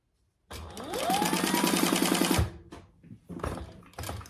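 A sewing machine stitches cording into fabric to make piping, running in a steady rapid burst for about two seconds and then stopping, followed by a few quieter handling sounds.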